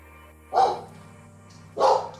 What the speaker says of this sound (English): don't know why my dogs are barking